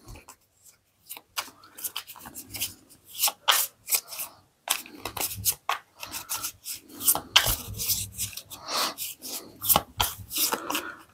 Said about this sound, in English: Shuffle the other cards back into the deck.